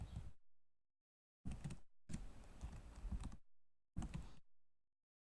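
Quick bursts of typing on a computer keyboard come in four short clusters of clicking keys separated by silence, close and fairly quiet.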